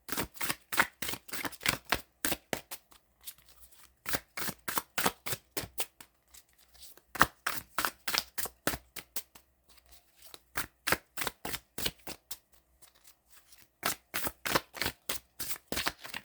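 Tarot cards are shuffled in quick riffling bursts, crisp rapid flicks repeated in several runs with short pauses between, close and fairly quiet, with no voices.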